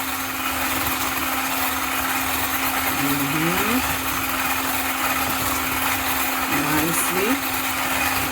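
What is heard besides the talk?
whisking eggs for an apple cake batter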